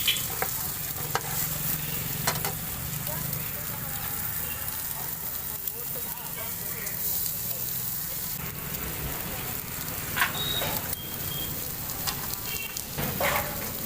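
Boiled eggs fry in a pan at a street food stall, giving a steady close sizzle with stirring and scraping throughout, while voices talk in the background.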